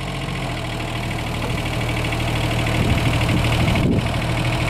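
Two motors, an old one and a new one, run together at a steady idle, a low continuous hum and vibration that swells slightly partway through, with a brief knock near the end and no talk.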